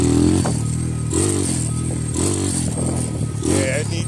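A Honda Grom motorcycle fitted with a Nibbi carburetor idles and revs near the mic in short bursts as it shifts down to first gear, its engine pitch climbing and falling several times, with a faint clatter between revs.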